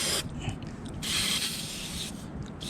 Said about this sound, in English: I'm just spraying this whole area here, including that wire.